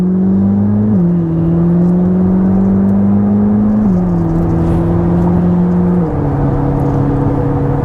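A Corvette ZR1 accelerates hard as the gas pedal is pressed, a loud steady engine whir and drone from inside the car that climbs in pitch, with distinct drops at each gear change.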